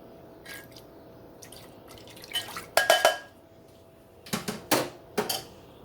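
Milk being mixed into a single dish for a Tupperware chicken and rice recipe, heard as a series of soft wet stirring and dripping sounds with light clinks, in scattered bursts.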